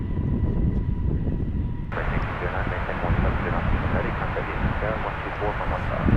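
An American Airlines Airbus A320 at DFW airport, with a broad, steady engine roar that holds loud throughout and grows fuller partway through, while a person talks over it.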